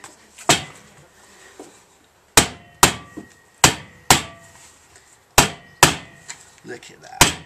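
Hammer beating a metal Yoshi race can silencer, a series of sharp ringing metallic blows in uneven pairs and clusters with short pauses between, loud and close in a garage.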